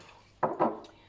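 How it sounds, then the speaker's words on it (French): Dishes shift and clatter in a kitchen sink, two quick close scraping knocks of crockery followed by a faint clink, with a quiet room otherwise. "Ce que vous entendez, c'est mon évier, ne vous inquiétez pas."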